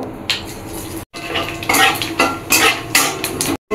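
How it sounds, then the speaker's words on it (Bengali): Whole cumin seeds drop into hot oil with dried red chillies and cardamom and are stirred, producing busy metallic scraping and clinking of a spoon against the pan over a light sizzle, close and fairly loud, with no speech. "এবার গোটা যে জিরাটা, আমি জিরাটাও দিয়ে দেবো।"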